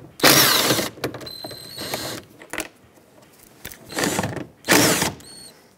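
Ratchet backing out 10 millimeter bolts on a Chevrolet Silverado 2500HD interior panel, several quick bursts of clicking separated by brief pauses, close and alone.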